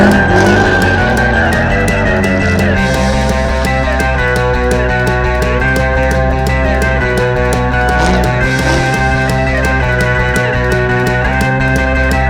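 A Hurst Olds G-Body car running laps on an autocross course, with a loud continuous engine roar rising and falling through gear changes and occasional tire squeal, no talking.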